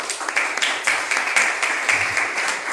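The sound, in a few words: audience applause for Me Gachette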